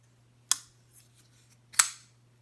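Steel Will Chatbot folding knife on bearings flicked open and snapped shut, two sharp, crisp metallic clicks about a second apart, close and isolated against a quiet background hum.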